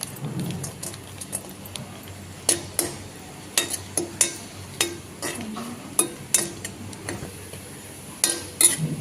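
Raisins frying in a pan are stirred with a metal spoon, giving repeated sharp clinks and scrapes against the pan at an irregular pace over a faint, quiet sizzle.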